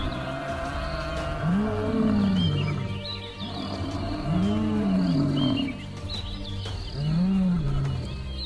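Lions roar while attacking buffalo on open ground. Three deep, drawn-out roars come close and loud, evenly spaced, over a bed of background rumble and faint chirping.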